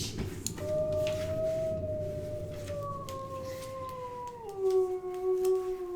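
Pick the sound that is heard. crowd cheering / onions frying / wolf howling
wolf howling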